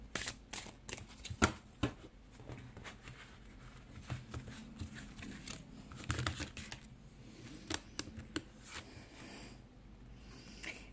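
Oracle cards being shuffled and drawn by hand, soft close crisp riffling and flicking in irregular bursts with light papery taps, quiet and without talk.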